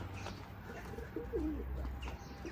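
Pigeons coo softly in a few low, rounded phrases at moderate distance, over a steady background hum with no voices.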